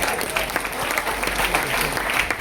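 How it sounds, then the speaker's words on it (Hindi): A room full of people claps steadily and warmly for a couple of seconds, dense applause with no pauses. "ताली हो सकती है सर"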